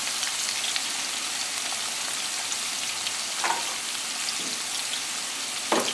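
A pot of Nongshim Farmer's Heart kimchi instant noodles boils with a steady bubbling hiss, broken by a couple of brief taps. No one speaks.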